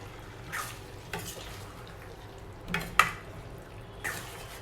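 Mutton and tomato are mixed in a pot for curry, with soft, intermittent stirring scrapes and clinks spaced about a second apart over a quiet low sizzle, no speech.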